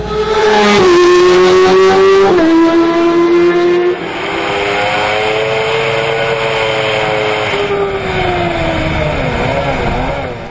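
A Kawasaki ZX10R Endurance racing motorcycle at the Bol d'Or 2012 accelerates hard, its loud, close, high-pitched engine note climbing through the revs with quick gear changes, then holding a sustained scream at speed.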